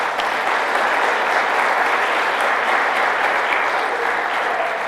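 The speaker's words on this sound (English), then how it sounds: "So let's give them a round of applause." An audience at a school grand opening gives a steady round of applause, an even, dense clapping wash throughout with no break.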